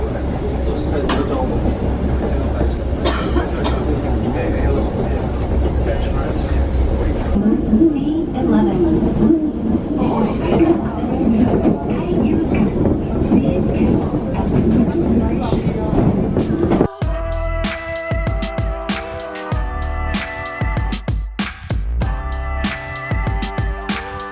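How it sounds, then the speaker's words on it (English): A local subway train in Kyoto rumbles along with a low, steady roar, then the sound shifts to clattering, squealing track noise with sharp clicks. "we've transferred into one of the local subway lines"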